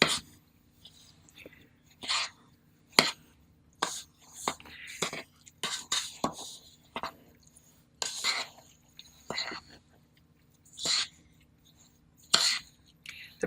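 Cottage cheese loaf ingredients with breadcrumbs being stirred together in a bowl, a quiet series of soft, irregular squishing and scraping strokes with short pauses between them.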